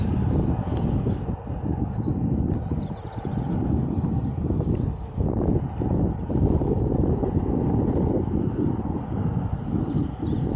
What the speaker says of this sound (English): as you can see there in the distance, that's EasyJet Airbus A320neo